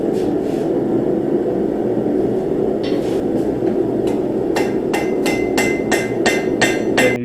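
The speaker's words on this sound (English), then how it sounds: "You can hear I'm not swinging hard, and I'm using a lighter hammer because this is doing the finer detail" A lighter hammer forges the profile of a seax blade. A few scattered taps lead into a steady run of sharp, ringing strikes on the steel, all over a constant low roar, with no speech.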